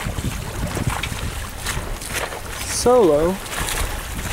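Sailboat cruising along a coastline past Islandview Beach near Sidney, with steady wind and water rush, a short whistle-like tone, and someone speaking briefly over it.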